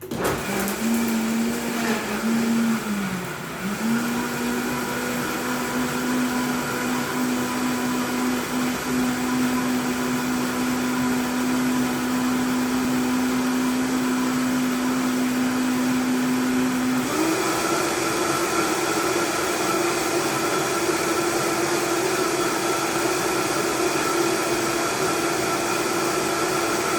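A countertop blender whirs steadily through a green smoothie with banana, a loud close drone that dips briefly early on, then steps up to a higher, faster pitch partway through and runs on without talk.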